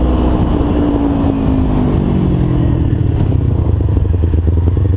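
A 2012 Kawasaki Ninja 250 motorcycle rides on tight, technical roads. Its engine drones loud and steady from start to finish, with the pitch rising and falling as it revs through the gears, over constant road and wind rumble.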